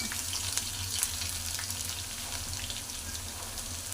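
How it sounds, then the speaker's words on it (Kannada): Crushed garlic frying in oil with cumin and curry leaves, a steady soft sizzle running throughout at moderate level, with faint clinks and no talking. "ಕರಿಬೇವು ಹಾಕಿದ್ಮೇಲೆ ಒಂದು ಜಜ್ಜಿರೋಂಥ ಒಂದು ಬೆಳ್ಳುಳ್ಳಿ ಹಾಕಿ ಸ್ವಲ್ಪ ಫ್ರೈ ಮಾಡಬೇಕು"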